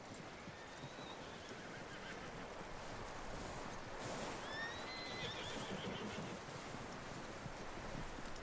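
A horse in Red Dead Redemption 2 whinnies in repeated rising and falling calls, with soft hoof clopping and rustling beneath, no talk, against a steady outdoor background.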